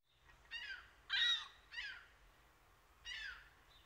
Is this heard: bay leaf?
no